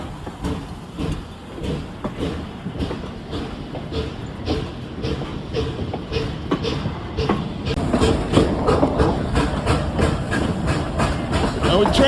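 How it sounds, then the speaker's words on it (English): A train passes with a steady rhythmic clickety-clack of wheels on rail joints, growing louder and denser over about twelve seconds. Faint voices and outdoor noise mix in. "Oh, train."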